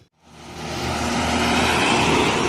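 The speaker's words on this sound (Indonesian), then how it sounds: "Medium bus Supirok Nauli" A Supirok Nauli ALS medium bus pulls out through the exit of a Type A bus terminal in Muara Bungo. Its engine builds from near silence to a loud, steady roar and stays up close, with no voices.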